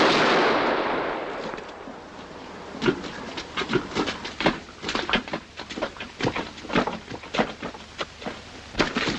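A firing squad volley in a 1946 film: a hissing rush of noise gives way to a rapid, ragged run of sharp, crackling gunshots of uneven loudness, fairly close.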